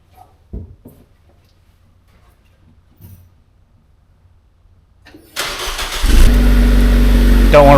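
After a few quiet knocks, a Nissan Juke's engine cranks and fires up through a new exhaust, settling into a loud, deep rumbling idle with a throaty exhaust tone.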